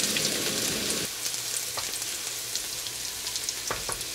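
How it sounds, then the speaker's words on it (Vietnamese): Shallots and garlic dropped into hot oil in a pan, a loud burst of sizzling at first that settles into a steady, quieter crackle with a few stirring knocks. "Dầu nóng thì mình cho hành và tỏi vào phi thơm."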